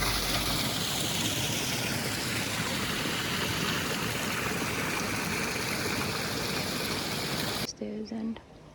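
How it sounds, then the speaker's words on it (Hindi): Hot spring water at Kheer Ganga in the hills, flowing in a steady, loud rushing wash close by that fills the scene and cuts off abruptly near the end, leaving only faint sounds. "जहाँ से वो गर्म पानी आ रहा है."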